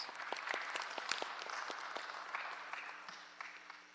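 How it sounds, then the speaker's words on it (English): Steady applause from attendees at a board meeting, a moderate wash of many hands with a few sharper individual claps standing out, fading slightly toward the end. "Yes, another round of applause, Mr. Perez."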